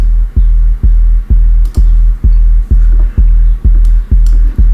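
A steady kick drum with huge room reverb thumps about twice per second, each hit followed by a long, boomy room tail that fills the gaps between beats.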